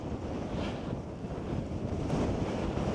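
Strong wind buffets the microphone high on the path up Mount Snowdon in Wales, a steady loud roar and rumble with gusts swelling toward the end, no voices.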